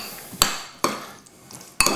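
A spoon knocks against a bowl three times, sharp and close, while a spiced chicken burger mixture with mayonnaise is stirred, with brief quiet gaps between the strikes.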